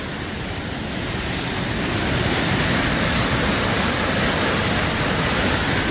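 A raging river in the Scottish Highlands roars as a dense, constant wash of rushing water, loud and close with no breaks.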